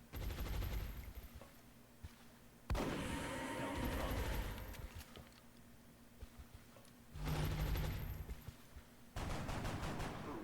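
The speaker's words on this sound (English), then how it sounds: "Medic has a shotgun shot." A shotgun blast in the turn-based strategy game XCOM Long War, heard as loud broadband bursts amid game sound effects, with a heavy crack near the start and further bursts later in the clip.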